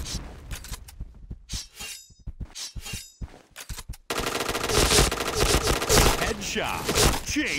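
Rapid automatic gunfire from a first-person shooting video game using a T77 rifle, bursts of shots with gaps in the first half, then dense continuous firing and loud explosive crackle in the second half.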